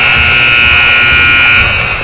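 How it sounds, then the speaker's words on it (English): A loud, sustained electronic buzzer sounds in a hockey arena, holding one steady tone for under two seconds before cutting off into crowd murmur. "sorry everybody, just a buzzer there."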